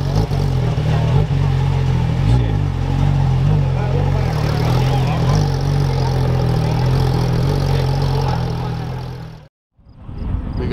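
A sports car with an aftermarket exhaust idles and revs at a car show, a strong, deep engine drone with rising and falling pitch, close by, mixed with people talking, then briefly cutting out before resuming.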